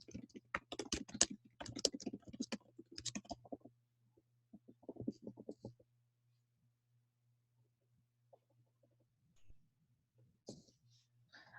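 Code is typed on a computer keyboard in a quick burst of close key clicks, then a shorter run of keystrokes, followed by near silence with a few scattered taps and faint clicks.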